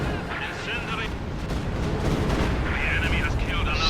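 A Stuka dive bomber barrage in the Company of Heroes strategy game: a dense, rumbling series of explosions and artillery-like blasts rolls along under someone commentator's voice.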